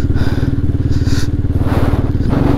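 A Hero Xpulse off-road motorcycle engine thrums loud and close as it rides a rough trail, a rapid pulsing exhaust beat with occasional clatter and no talking.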